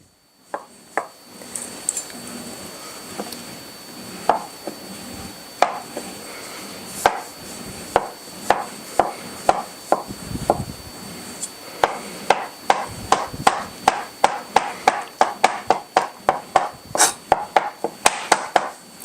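Hard-boiled eggs, cooked in an Instant Pot for a creamy dill potato salad, are chopped with a knife on a board: irregular single cuts at first, then fast steady chopping that speeds up toward the end, close and crisp.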